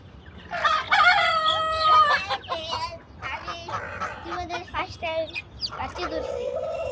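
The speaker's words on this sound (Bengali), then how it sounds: "হাঁসগুলো খুব ক্ষুধা পাইছে তো খাবারের জন্য এমন করতেছে" Several hungry ducks call out loudly for food in quick succession, harsh, honking cries overlapping one another with little pause.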